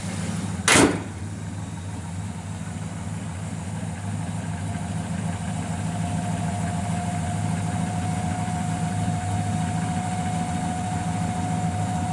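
A car's engine is started, with a brief sharp thump near the start, then settles into a steady, smooth idle with a low, even hum and a faint tonal whine, heard close and alone.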